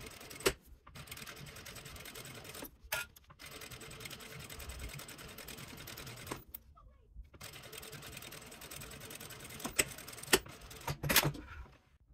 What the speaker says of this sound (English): we will take it to the sewing machine